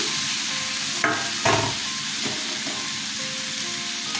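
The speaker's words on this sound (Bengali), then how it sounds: "মশলা কষানো হয়ে গেছে, ওলটা ছেড়ে দিলাম" Chunks of elephant foot yam are dropped into a pan of fried spices with a little water. A couple of soft thuds are followed by steady sizzling and the scrape of stirring.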